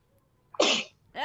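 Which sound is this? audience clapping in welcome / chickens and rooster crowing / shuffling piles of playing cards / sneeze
sneeze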